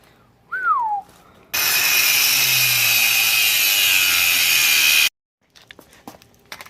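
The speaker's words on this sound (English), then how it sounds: "we were just cutting the second back spring" Tool cuts into a car coil spring on a Honda Civic, giving a loud, steady high-pitched grinding screech for several seconds that stops abruptly, preceded by a short rising whistle.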